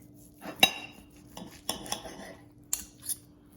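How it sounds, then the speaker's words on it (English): A butter knife cuts into a medium-cooked takeout steak from Ruth's Chris Steak House, giving several light scrapes and clinks of metal on a plate in a quiet room. "You ready for me to cut into the steak?"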